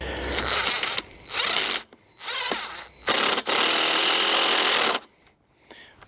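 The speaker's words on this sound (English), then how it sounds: "To save myself a little time, I'm actually using self-drilling sheet metal screws." Self-drilling sheet metal screws driven into the metal frame of a low-cost tunnel greenhouse, a power driver whirring in several bursts of about a second each, the longest run lasting nearly two seconds, loud and close with short pauses between.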